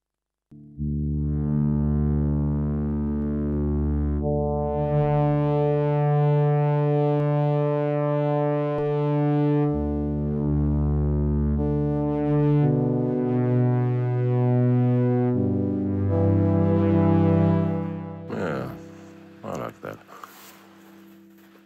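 A sustained Yamaha SY77 FM synthesizer pad playing a slow sequence of held chords, with a warm, slightly wavering detuned shimmer, ending in a brief burst of noise.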